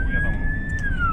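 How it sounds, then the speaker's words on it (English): A police car siren wails as a steady, sliding tone that holds, then drops near the end, under continuous road and engine rumble, with brief outbursts mixed in. "that's a police car."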